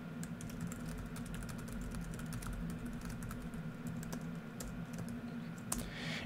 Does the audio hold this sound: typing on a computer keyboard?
yes